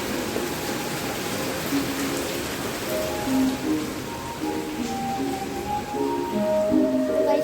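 Heavy rain pours steadily in a Kerala home setting, a dense even hiss of falling water with scattered tonal bird-like or household sounds faintly threaded through.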